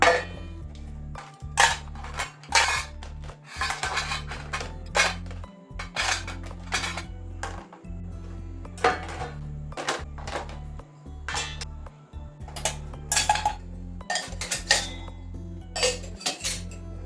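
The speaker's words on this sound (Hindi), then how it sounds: "जो भी बर्तन हैं उन सबको मैं पोंछ के अभी यही हाथों हाथ लगा लूँगी" Kitchen pots, pans, dishes and cutlery are wiped and stacked into place in a home kitchen, a close, irregular run of metallic clanks, clinks and knocks with brief pauses between handlings.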